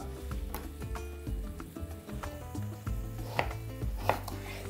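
Two small carrots being cut into half rings with a knife on a board, a quick run of crisp, evenly spaced chopping taps with a few louder knocks, close and fairly quiet, no talking.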